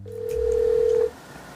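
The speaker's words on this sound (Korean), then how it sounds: "누군가에게 전화를 합니다." A telephone being dialed for a call gives a single steady electronic tone for about a second, then it cuts off abruptly to quiet room noise.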